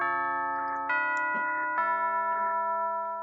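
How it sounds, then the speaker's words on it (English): A school bell in the Ayakashi Akashi video game rings out as a sustained, steady electronic chime with layered tones. It holds for about three seconds with a few small tonal shifts and no talking. "There's the bell. Class is over."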